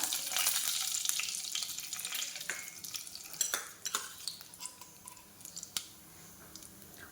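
Cumin seeds go into hot oil in a pan; a brief burst of spluttering sizzle fades into softer frying with scattered clinks and scrapes of a spoon against the metal.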